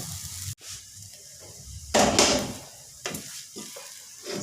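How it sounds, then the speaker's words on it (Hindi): Vermicelli (seviyan) roasts in a pan with a soft, steady sizzle, broken by a sharp clink and louder scraping, stirring strokes near the middle and end. "सेवइयों को मैंने 3 से 4 मिनट के लिए भून लिया।"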